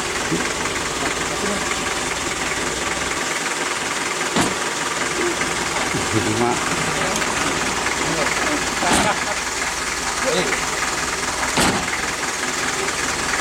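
Rough, steady rumble of a car engine idling at a river crossing, with occasional knocks and clunks and voices faintly mixed in.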